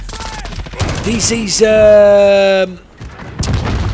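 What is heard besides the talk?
light machine gun fire in a video game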